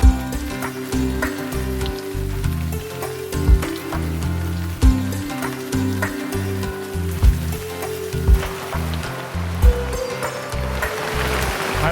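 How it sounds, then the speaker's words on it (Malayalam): Steady rain falls in a forest setting, a constant dense patter with occasional louder drops and thumps over a low rhythmic background. "മഴ മഴ മഴ മഴ"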